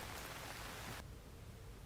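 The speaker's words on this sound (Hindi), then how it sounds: "राजधानी रांची में सुबह से ही जमकर बारिश हो रही है।" Heavy rain falls steadily in Ranchi, Jharkhand, a dense, even hiss of drops that softens partway through, with no voices.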